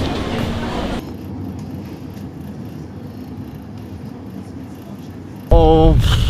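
An S-Bahn train carries passengers along, its steady rumble and rolling noise filling the carriage, with a person talking briefly at the start and a louder burst of voice near the end.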